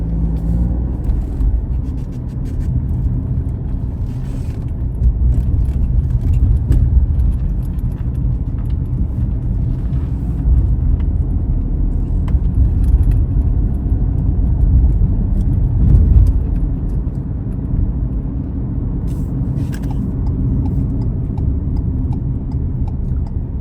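A car driving on a road, heard from inside as a steady, loud engine and tire rumble that holds evenly throughout with small swells and no talking.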